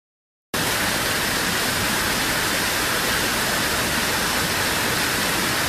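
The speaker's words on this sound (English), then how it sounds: "It was a waterfall." Steady, dense roar of rushing water, loud and unbroken, like a waterfall heard close by, beginning abruptly after a brief moment of silence.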